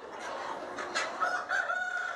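Chickens of a new locally developed broiler-like breed crow and cluck close by, with a rooster's drawn-out call rising over scattered hen clucks and no talking.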